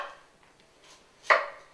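A knife cuts through raw yam on a board, giving one crisp chop near the end after faint handling noise.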